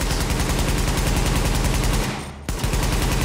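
Marksman rifle in The Division video game firing fast, loud, evenly spaced shots in a steady stream, with a brief break near the end before the firing picks up again.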